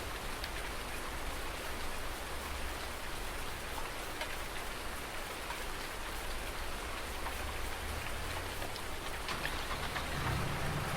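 Steady, dense rain in Farming Simulator 19 hisses continuously, with a low rumble of thunder underneath, and no voices.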